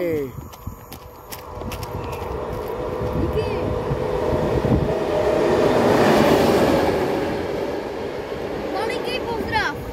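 A PKP freight train of tank wagons rolls past, its rumble and rhythmic wheel clatter swelling to a peak near the middle and easing off, while someone talks throughout.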